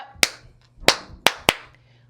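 Four sharp, separate hand claps from children in a pre-K learning session, loud and close, with uneven gaps between them.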